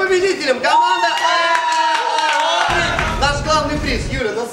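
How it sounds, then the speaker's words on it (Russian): An audience at a stage event claps and cheers for the winning team, a dense continuous ovation that stays loud throughout while people shout and talk over it. "Аплодируют победителям."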